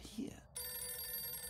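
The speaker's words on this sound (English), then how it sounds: "Just don't answer the phone." Telephone ringing in the Alter Ego PC game, a steady bell-like ring starting partway through and continuing to the end, following a brief moment of speech-like sound at the start.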